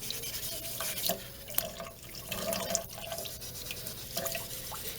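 Water runs from a tap in a workshop where a Damascus knife forged from chainsaw chain is being finished. The steady splashing and dripping is moderately close, with occasional clinks.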